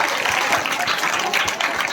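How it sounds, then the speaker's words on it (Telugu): Crowd applause from an audience at a gathering, a dense, steady patter of many hands clapping loudly and continuously, close and filling the space, with faint voices mixed in. "గట్టిగా చప్పట్లు కొట్టాలా?"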